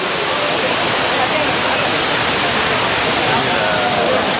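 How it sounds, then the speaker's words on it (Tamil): A heavy, constant roar of falling water at night, steady and loud throughout, from Courtallam Main Falls pouring close by. "தண்ணி எப்படி கொட்டுது பாருங்கள்."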